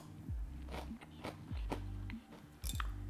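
Crispy air-fried eggplant bacon gets bitten and chewed up close, with a series of loud, crunchy bites and wet chewing in irregular rhythm and no talking.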